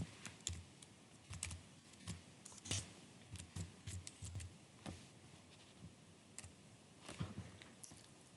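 Typing on a computer keyboard while writing JavaScript code, with irregular bursts of close, crisp key clicks separated by short pauses and no talking.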